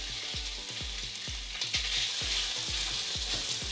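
Chorizo sausage crackles in a pan of hot neutral vegetable oil, a steady broadband sizzle punctuated by regular low thumps and clacks of a utensil working the meat, close and continuous with no talking.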